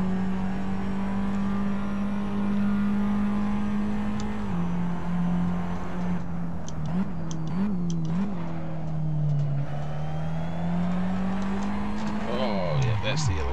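A Formula Abarth race car at Sepang practice drones loudly from on board, its engine note holding steady, dipping and rising as it slows and shifts for a right-hander, with some talk over the top.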